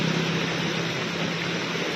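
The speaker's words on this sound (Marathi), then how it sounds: "जोरदार पाऊस चालू असल्यामुळे" Heavy rain pours down in a steady, dense roar of broadband hiss with no breaks, loud and continuous throughout.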